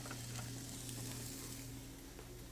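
Chopped onion sizzles in grapeseed oil in a hot pan, giving a faint, steady hiss and crackle with no voices.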